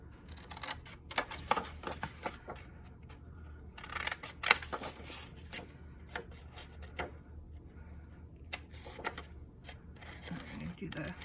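Scissors snip paper corners to miter a pocket for a large handmade mini album, a series of short crisp cuts and paper rustles up close, with a person talking between them.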